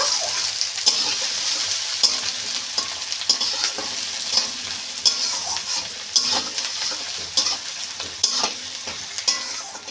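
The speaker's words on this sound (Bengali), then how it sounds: "বেশ ভালো করে পেঁয়াজটা লাল লাল করে ভেজে নেব" Chopped onions fry in hot oil with a dense, steady sizzle while a utensil scrapes and stirs them in a rhythmic series of clicks and scrapes, close up, with no one talking.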